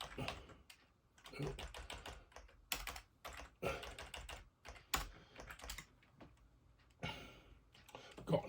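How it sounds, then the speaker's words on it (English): Fingers typing on an older PS2 computer keyboard, a run of quick clicking keystrokes in irregular bursts with short pauses, fairly close, while a person talks intermittently. "Not used to typing on a PS2 keyboard anymore."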